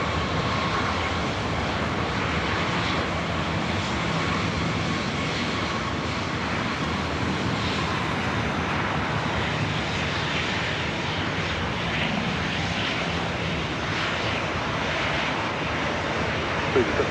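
A SkyWest airliner lands on runway 24 right at LAX, its engines producing a continuous loud roar that stays steady the whole time, with faint radio voices beneath.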